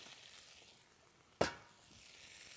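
Steamed Brussels sprouts hit a hot pan with garlic and red pepper flakes, giving one sudden loud sizzle that fades over a second into a soft, steady frying hiss.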